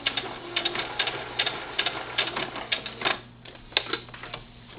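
A sewing machine stitches velcro onto a pillow with a rapid, clattering mechanical rhythm, nearby and fairly loud, including short back stitches and a brief slowdown partway through.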